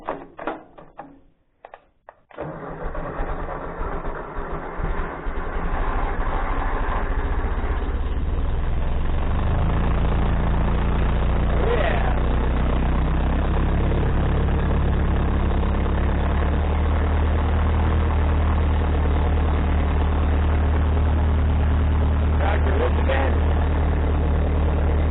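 Tractor engine, just tuned up, cranks and catches after a few seconds of handling noise, then settles into a loud, steady idle that runs close and continuous, with a brief voice.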